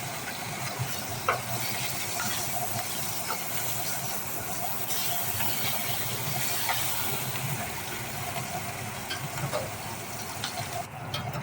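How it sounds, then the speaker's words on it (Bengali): Fish pieces fry in hot oil in a pan for a Bengali mustard-poppy fish curry, giving a steady, close crackling sizzle with occasional small pops throughout and no talk. "ভালো করে লাল লাল করে আমাকে ভাজতে হবে"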